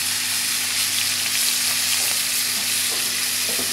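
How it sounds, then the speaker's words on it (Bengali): Freshly caught fish frying in a pan, a steady close sizzle with crackling spits running throughout, alone with no talk. "এই যে ফ্রাই চলতেছে"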